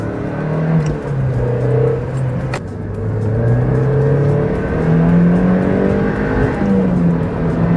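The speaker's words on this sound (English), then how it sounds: "this is a screamer of a 4-cylinder engine" A 1998 Mazda MX-5 NB four-cylinder engine with six-speed manual revs hard and loud, its pitch climbing and dropping through gear changes with a continuous roar, close by.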